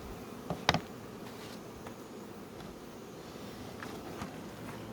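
Honeybees buzz around a beehive during summer feeding with pollen patties, a steady low drone filling the background with a few sharper, louder passes of single insects close by.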